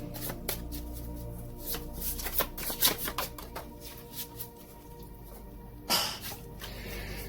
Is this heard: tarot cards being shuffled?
yes